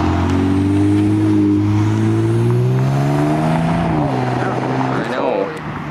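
A green GTR supercar revs hard and accelerates, its loud engine note rising through the gears and then falling away as it passes, while excited voices talk over it.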